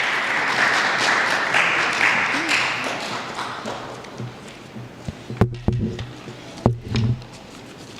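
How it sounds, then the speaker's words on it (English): An audience claps for the keynote speaker at a school awards ceremony. The applause is dense and loud at first, then thins and fades into scattered taps and light knocks. "So please give her a big round of applause."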